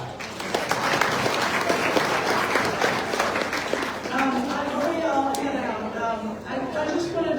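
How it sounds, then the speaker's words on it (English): An audience at an evening community mixer breaks into sustained applause, a dense near clatter of clapping that fades after a few seconds as a voice continues talking. "give yourself a round of applause for being here tonight"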